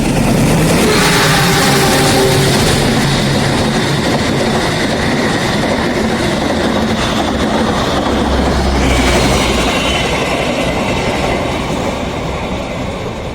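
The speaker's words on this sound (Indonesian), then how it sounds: "kereta api Argo Wilis telah melintas langsung di stasiun Monokromo" The Argo Wilis express train rushes past close by through a station without stopping, a steady roar of rumbling wheels and clatter that fades slightly at the end.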